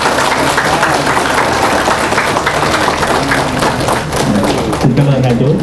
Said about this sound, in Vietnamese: chúng ta cho một tràng pháo tay thì là lớn cho là dài nha